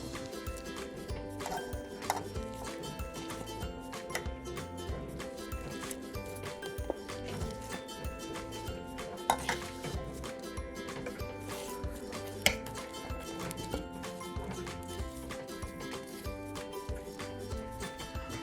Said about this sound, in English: I'm now going to add the cream cheese mixture to the cream